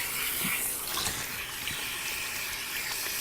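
Water runs steadily from a salon sink spray while hair is rinsed, making a continuous hiss and splash with slight shifts as the flow moves around the head.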